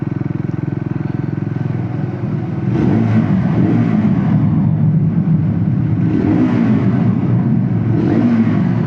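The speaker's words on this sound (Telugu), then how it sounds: "సో ఎగ్జాస్ట్ నోట్ ఒక ఐడియా వచ్చేసింది మీకు, మంచి ఎగ్జాస్ట్ నోట్ అంటే డబుల్ బ్యారెల్ ఎగ్జాస్ట్" A Triumph Scrambler 400XC on the move, its double-barrel exhaust droning loud and steady, then swelling as the rider opens the throttle around the third second and holding a strong, rising engine note with no talking.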